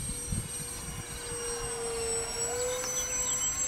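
A Multiplex Learjet RC model jet with twin 50 mm 12-blade ducted fans on 4S power makes a steady turbine-like whine with a high tonal pitch shift as it passes, sustained and fairly distant, no talking.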